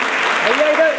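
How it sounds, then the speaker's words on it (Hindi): A crowd at an agricultural science award ceremony claps to welcome an honoree. The burst is short and continuous, and a voice is audible over the clapping. "सभी लोग जोरदार तालियों से इनका स्वागत करें"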